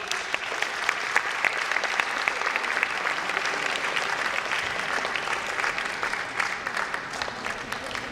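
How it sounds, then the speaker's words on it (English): An audience at a dance institute event gives sustained applause to welcome Father Shekhar on stage, a dense, steady wash of many hands clapping at an even level. "I would like to welcome him with a huge round of applause"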